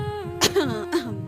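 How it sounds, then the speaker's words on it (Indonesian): Two short, close coughs, like quick throat-clearing bursts, break up a voiced sounds during an indoor talk. "Batuk, maaf."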